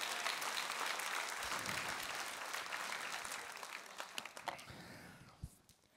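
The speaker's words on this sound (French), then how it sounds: "on donne une parole d'applaudissement à notre Seigneur" A church congregation breaks into sustained applause, a dense wash of clapping that holds steady before thinning out, with a few scattered louder claps near the end.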